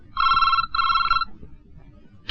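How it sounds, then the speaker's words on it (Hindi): A telephone rings at night in a Hindi romantic film: two loud, clear electronic ring bursts back to back, then quiet room tone. "इतनी रात का किसका फोन है?"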